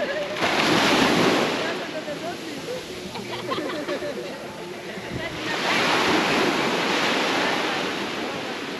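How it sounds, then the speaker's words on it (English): Surf rolls onto a small beach at Samaná Bay in the Dominican Republic, with broad washes of breaking waves swelling and receding in two clear surges, close and fairly loud, with some wind buffeting the microphone and brief voices in the background. "Beautiful little beach."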